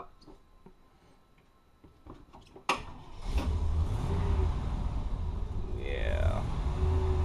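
An old bus that has sat unused for eight months, carburetor in need of a rebuild, revs loud and close under held throttle after a sharp start, its steady low drone filling the rest of the stretch.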